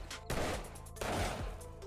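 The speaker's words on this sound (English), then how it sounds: "let's start putting bullets in these guys." Gunfire from the survival video game 7 Days to Die, shooting zombies from a horde base: two loud bursts of shots, each trailing off, with no talking.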